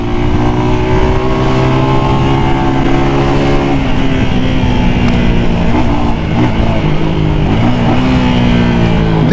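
A brand-new 250cc Rebel T Special Edition motorcycle engine revs loudly and steadily up close, its pitch holding high then dropping and rising again through several throttle blips.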